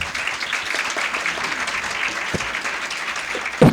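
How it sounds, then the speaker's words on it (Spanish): Applause from a small audience at a live talk on Borges, steady moderate clapping, with a couple of louder thumps near the end. "Aplauso para Georgie."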